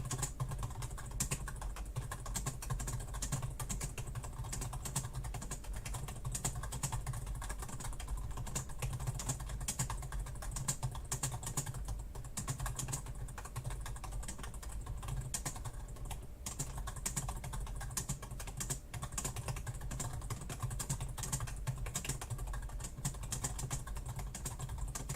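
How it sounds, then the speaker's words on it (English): Steady computer keyboard typing runs throughout, close and continuous, while someone makes Dungeons & Dragons 5e item cards; keystrokes blend into a dense clatter over a low room hum, with no talking. "I totally just kept typing instead of reading."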